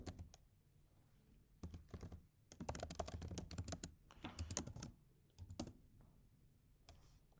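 Someone types code on a computer keyboard, sending quick clusters of crisp key clicks in irregular bursts with short pauses between them, close and clear.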